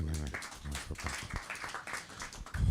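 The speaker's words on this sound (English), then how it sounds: "round of applause for Guru Sahib" Applause for Guru Sahib rises at an ISKCON temple Sunday program in Coventry, scattered claps from the congregation mingling with voices and murmuring, fairly faint.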